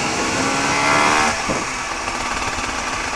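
A motorcycle engine roars steadily, then on a downshift to second gear its pitch shifts and the engine note rises briefly before settling back to a loud drone with wind noise.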